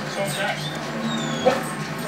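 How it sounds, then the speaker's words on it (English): Several dogs whimper and give short yips and soft barks close by, brief and overlapping, against steady outdoor background noise. "look at these dogs."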